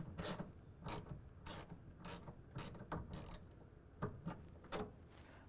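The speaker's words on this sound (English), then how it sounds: "put the box end wrench on the nut and go ahead and tighten this guy down" A box end wrench tightens a nut on a tonneau cover clamp on a 2024 Ford Ranger truck bed, making a series of close, quiet ratcheting clicks and metallic creaks in uneven bursts, with no talking.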